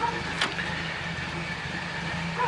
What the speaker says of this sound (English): this large engine does take a few minutes to warm up